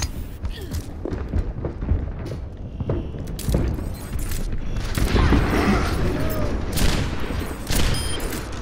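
Sustained, loud volleys of gunfire and thudding impacts from an Overwatch payload match, continuous and close throughout with steady mechanical game effects underneath.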